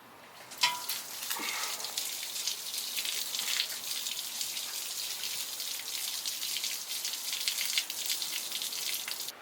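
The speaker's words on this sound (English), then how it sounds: "We'll get some water running, flush out the whole system as best as we can" Water running through a hose to flush a car's oil-contaminated coolant system, a steady close hiss and splatter with small irregular drips, continuous and even after a brief start.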